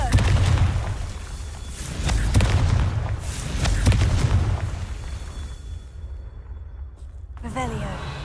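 Repeated blasting-spell explosions from the Confringo charm in Hogwarts Legacy, several booming bursts rolling one after another over dense game noise, loud and close, fading near the end.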